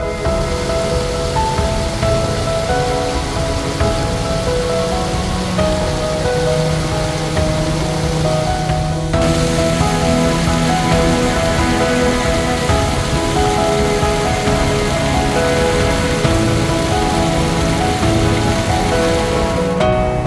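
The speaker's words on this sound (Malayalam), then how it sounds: "ഒഴുകിമറയുന്ന വെള്ളച്ചാട്ടം ഒരേ സമയം കണ്ണിന് കൗതുകവും മനസ്സിന് കുളിർമയും പകരുന്ന നിത്യഹരിത കാഴ്ച കൂടിയാണ്" The Oliyathupara waterfall in monsoon flood gives off a constant loud rushing roar that runs throughout, with sustained musical tones layered over the water.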